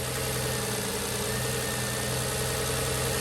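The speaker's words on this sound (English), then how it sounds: "what do you think about the sound of the engine?" A 2006 Nissan Murano SL 3.5L engine, in limp mode with weak acceleration, idles steadily while warming up, with a low, constant rumble and slight vibration, unbroken and fairly close throughout.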